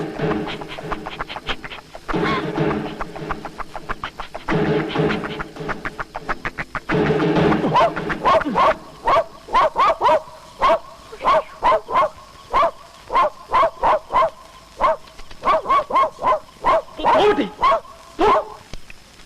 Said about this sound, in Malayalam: ഇതെന്താ ഈ പട്ടി അവിടെ തന്നെ നോക്കി കുറയ്ക്കുന്നത്?